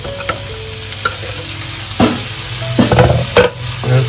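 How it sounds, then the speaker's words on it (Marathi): Onion, tomato and ginger-garlic paste sautéing in a pan for pav bhaji, with a steady close sizzle and irregular scrapes and knocks of stirring throughout, no voices. "इकडे बघता तर सर्व ना कांदा टोमॅटो आलं लसूण पेस्ट आपण व्यवस्थित परतवून घेतलेला आहे"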